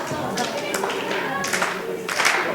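Crowd at a British pro wrestling show clapping in scattered bursts to rally a wrestler, echoing in the hall beneath a commentator's voice.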